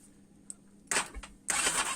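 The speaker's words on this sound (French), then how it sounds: "Vous voyez, là le moteur il tourne" After a quiet moment with a small click, a quad bike's small engine cranks loudly in two short bursts close by, trying to catch.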